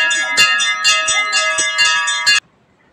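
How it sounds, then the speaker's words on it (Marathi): A temple bell rung during aarti at a village goddess festival, about six rapid, ringing clangs struck in a steady rhythm, loud and close, stopping abruptly after two and a half seconds. "ओटी भरून झाल्यानंतर घंटी वाजवून आरती करून"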